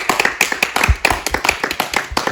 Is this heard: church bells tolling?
no